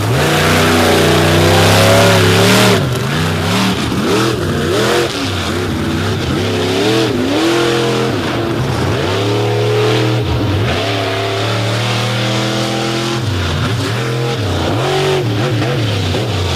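A racing vehicle's 572 cubic inch Oldsmobile engine, built and tuned by Kevin Stauffer, at the 2024 Indy Freestyle, roaring loud and close as it revs up and down repeatedly over a sustained throaty drone.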